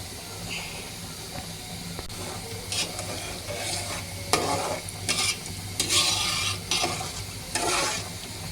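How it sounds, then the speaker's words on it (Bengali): Chicken khichuri bubbles and hisses in a pot on a stove turned up high, with a steady simmer underneath and scattered sizzling bursts of steam and stirring. "খিচুড়ি বলক এসে গেছে।"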